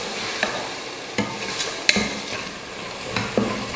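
Small tomatoes sprinkled with salt sauté in a pan, with a soft steady sizzle broken by several sharp scraping stirs of a spoon at irregular intervals, close and fairly quiet.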